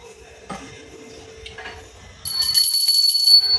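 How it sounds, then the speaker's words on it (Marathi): A few faint clinks, then a small prayer bell rings with a bright, steady high tone for about a second before stopping. "घंटी वाजवून नमस्कार करायचा"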